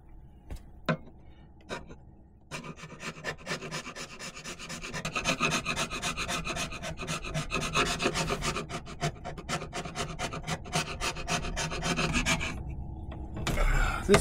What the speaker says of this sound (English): I couldn't find my regular scraper, so I'm using a chisel.